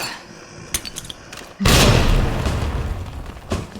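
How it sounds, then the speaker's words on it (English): A grenade in a Resident Evil game goes off in a deep booming blast on zombies below after a few quieter knocks, and the roar rumbles and decays over the next two seconds. "So we're just going to toss the grenade down there."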